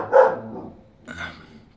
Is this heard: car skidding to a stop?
no